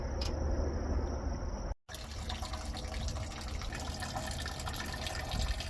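Engine coolant from the leaking air compressor coolant supply line of a 2016 Cascadia with a DD15 draining into a 5-gallon bucket, a steady close rushing pour of liquid that cuts out for a moment and then resumes, with no talking.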